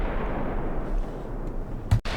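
Naval shells from warships in Ultimate Admiral: Dreadnoughts land with deep rumbling booms over a low, steady battle roar, ending in a sharp, heavy blast close to the listener.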